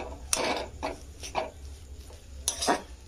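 Boiled potatoes being mashed in a pan for mango chop give off soft scraping, knocking and squishing sounds in irregular bursts, close and fairly quiet, with no talking.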